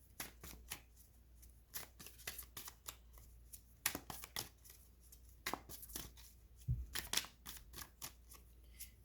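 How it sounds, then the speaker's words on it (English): Tarot cards being shuffled close up, a steady run of crisp riffling and flicking bursts with brief pauses and one soft thump near the end, no voices. "So let's shuffle and see what pops out."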